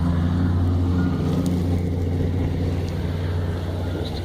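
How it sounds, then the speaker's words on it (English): Gale-force blizzard wind roars steadily through St. John's, Newfoundland, a loud, unbroken low rumble of buffeting gusts with no voices heard. "it's still blowing a gale here in St. John's, Newfoundland"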